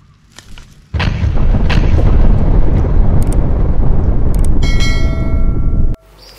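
A toy grenade goes off with a loud, sustained blast that starts abruptly and roars steadily for about five seconds before cutting off sharply, with faint rattles before it.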